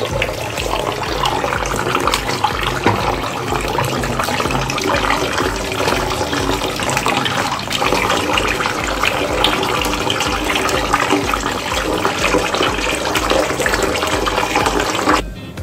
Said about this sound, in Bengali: হাঁসের মাংসগুলো এখন আমি সুন্দরভাবে পরিষ্কার পানি দিয়ে ধুয়ে নিচ্ছি।